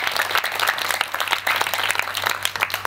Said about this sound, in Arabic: عطونا تصفيق